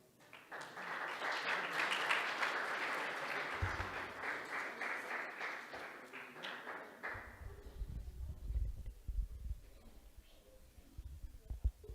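Audience applause fills a hall at a Sunday feast class, a steady wash of clapping that fades after several seconds into quieter room noise and low rumbles.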